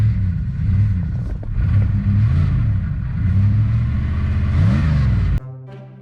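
A Jeep Wrangler ZJ that struggles to stay running sits at a loud, close rough idle, repeatedly revving up and settling back, before the sound cuts off abruptly near the end.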